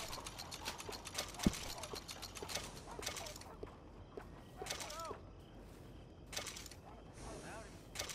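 Horse hooves clip-clop in the Red Dead Redemption 2 video game, irregular steps among faint mechanical clicks and game ambience, with character voices briefly heard.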